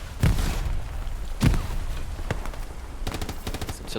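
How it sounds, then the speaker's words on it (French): Gunfire in the World War II shooter game Hell Let Loose: a few heavy booming shots followed by a rapid burst of automatic fire, loud and close, with no talking. "Ça me tire depuis l'est encore."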